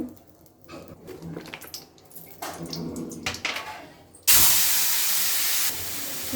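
Bitter gourd is dropped into a hot pan and bursts into a loud, sustained hissing sizzle, following a few seconds of quieter clatter and handling.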